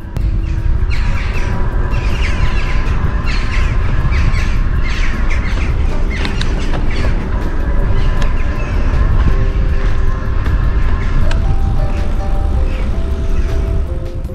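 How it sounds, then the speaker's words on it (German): Crows caw repeatedly among birds nesting on rocky cliffs, their harsh calls overlapping above a loud, constant rumble of wind or traffic. "Über den Felsen haben Vögel hervorragende Nistplätze gefunden."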